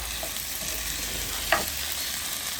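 A ground spice paste for chicken curry fries in a pan with a steady, close sizzle and crackle, plus a brief sharp clink partway through, and no talking.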